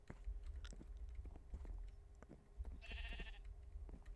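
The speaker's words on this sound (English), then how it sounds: "I'm only bringing the sheep and the Enderman." Sheep bleating in Minecraft, one short quavering bleat over low rumbling game noise and faint clicks, fairly quiet.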